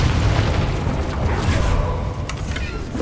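A Confringo blasting spell goes off in the wizarding game Hogwarts Legacy: a loud, heavy explosive boom that rolls on as a dense, sustained rumble for a few seconds.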